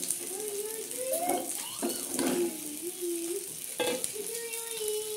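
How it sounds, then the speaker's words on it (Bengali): Bata fish frying in a pan gives a soft, constant sizzle with faint clinks and scrapes, while a quiet voice speaks over it. "আর এদিকে আমি বাটা মাছ নিয়ে ভাজছি"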